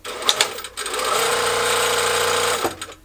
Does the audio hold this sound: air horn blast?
no